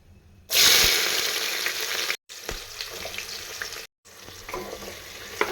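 Onions hitting hot oil in a pan, a loud burst of sizzling that settles into steady frying with occasional stirring clinks, briefly cut off twice, close and with no speech.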